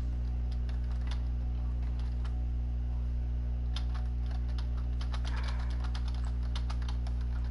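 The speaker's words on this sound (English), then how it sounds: "can you hear my keyboard in the background?" Light, irregular clicking of computer keyboard keys in a room, faint behind a steady low electrical hum, with short bursts and pauses.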